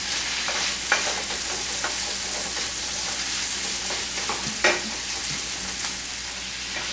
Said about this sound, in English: we are sauteing our onions and our bacon together